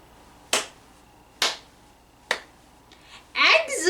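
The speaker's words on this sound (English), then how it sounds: "Let's give everyone an excellent clap." Claps in an English grammar class, three sharp separate claps spaced evenly about a second apart, then a voice speaking.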